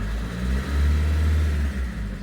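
A 2024 Opel Corsa diesel engine revs up from idle as the accelerator is pressed, a loud, close, low rumbling drone that swells and holds before easing slightly, with no voices.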